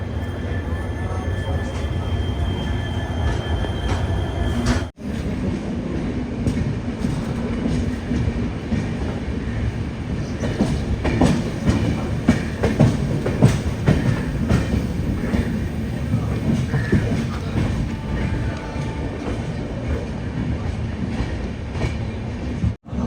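An express train runs from Assam to West Bengal, heard from inside the carriage as a continuous rumble with clattering wheels on the rails and faint talk in the background.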